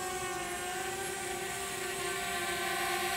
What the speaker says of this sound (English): the drone will start coming back to you